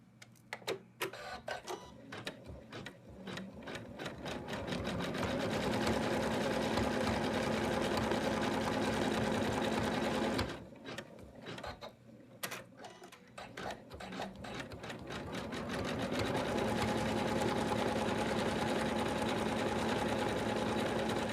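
An embroidery machine stitches fabric held in a hoop for an in-the-hoop Santa project, a fast steady mechanical rattle running close and loud, pausing briefly around ten to twelve seconds before resuming, with no speech.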